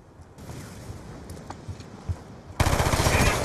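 Gunfire in the video game Call of Duty: Black Ops II, a rapid burst of automatic fire that swells into a loud, dense rattle of shots toward the end.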